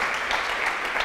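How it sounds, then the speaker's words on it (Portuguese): A church congregation claps during a service: a short burst of dense, steady applause from many hands, heard on its own. "Você podia dar um aplauso a Jesus?"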